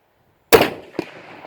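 A single close, loud rifle report from a Remington Sportsman 78 in .30-06, followed a moment later by a sharp metallic ping as the bullet strikes a 14-inch oil refinery end cap, then a fading echo.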